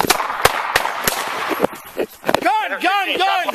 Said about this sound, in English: Gun! Gun! Gun! Gun! Shots fired.